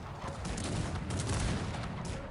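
Cannon grapeshot fire and musket volleys in the Cossacks 3 strategy game crackle in a dense, continuous burst of overlapping shots, moderately loud with no voices.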